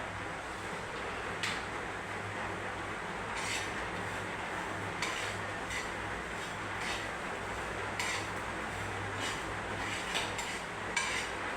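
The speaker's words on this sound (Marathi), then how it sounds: "तर हे आपण तीळ असे छान भाजून घेऊया।" Sesame seeds dry roast in a pan for a Marathi brinjal dish, giving a soft, even rustling hiss broken by light scrapes and clinks of a spatula against the metal at irregular intervals.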